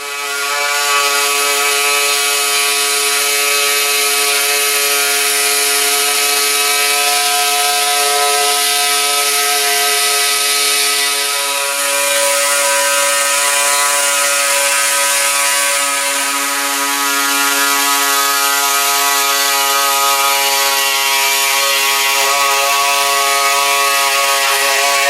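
A power tool cuts gauge holes into the dash of a 1934 Ford Coupe, giving a steady, loud, high mechanical whine that runs for about twenty-five seconds without letting up. No one speaks.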